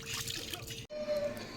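Catla fish being rinsed under water gives a faint, steady trickle and splash lasting under two seconds, with a brief break partway through.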